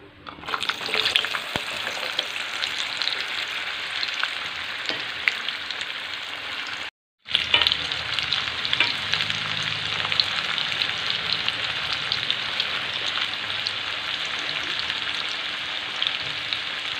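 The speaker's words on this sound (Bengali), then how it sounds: "একদম হাই আছে, ভেজে নেব।" Food seasoned with salt and chili powder frying in a pan on high heat gives a loud, steady, close sizzle that runs throughout, broken only by a brief silent gap partway through, with no talking.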